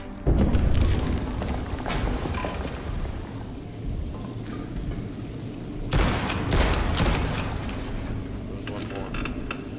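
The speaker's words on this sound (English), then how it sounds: "Okay. I get it. Explosions." Booming explosions and bursts of gunfire from the video game Liberated, loud and repeated, with a voice talking over parts of the action.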